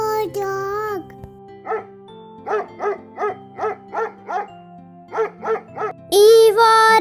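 A dog barks in quick bursts, about a dozen short yaps in two runs, over soft music, with higher voiced calls at the start and end.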